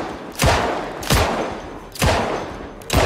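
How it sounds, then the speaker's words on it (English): Four heavy gunshots from firearms in Project Zomboid, a zombie survival game, ring out loud and close at roughly even intervals, each a sharp broadband crack with a short decaying tail. No one talks. "Shot him 5 times."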